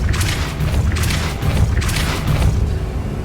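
Repulso spell blasts in Hogwarts Legacy, three loud booming bursts with a rushing whoosh, evenly spaced about a second apart, close and forceful.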